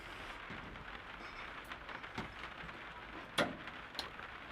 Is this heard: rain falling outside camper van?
yes